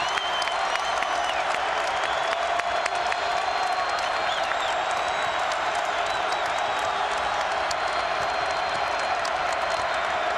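A jam-packed basketball crowd at the Bradley Center in Milwaukee, at a 2008-09 Marquette vs. Georgetown game, roars with dense continuous cheering and applause that stays loud throughout.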